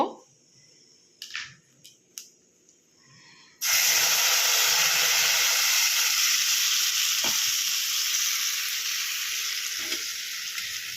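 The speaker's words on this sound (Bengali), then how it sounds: "এবার এটা মশলাটা ভালো করে কষাতে হবে" Spice paste for an egg masala curry, added to whole cumin and dried chillies in hot oil, hits the pan with a sudden loud, steady sizzle that holds for several seconds after a few quieter clinks.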